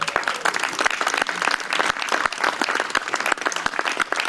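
Loud, dense audience applause fills the whole stretch at an outdoor summer concert, with many hands clapping steadily and no voice over it.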